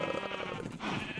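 A single wavering bleat from a sheep in the video game Minecraft, close and steady, lasting about a second with no speech over it.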